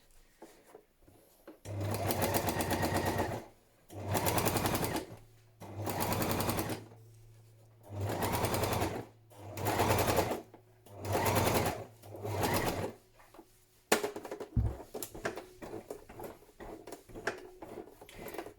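A sewing machine stitches a padded patchwork journal cover in six loud, close bursts of steady rapid stitching, each one to two seconds long with short pauses between. After the last burst come quieter handling clicks and rustling.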